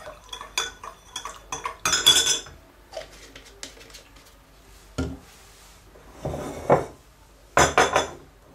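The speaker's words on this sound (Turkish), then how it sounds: "Yağlarımı karıştırıyorum." A spoon stirs oils in a container while making green tea scented soap, giving sporadic metallic clinks and scrapes with quiet pauses between bursts.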